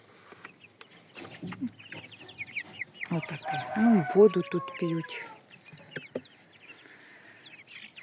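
Month-old Lohmann, Hisex and Dominant chickens cluck and a young rooster gives a short crow nearby, with a person speaking briefly over the birds before it settles back to quiet farmyard noise.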